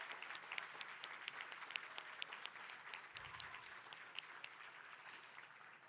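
Sustained applause from an audience at the 2023 Solar Decathlon winners announcement, dense steady clapping for the full stretch at fairly even loudness, with no voices rising above it.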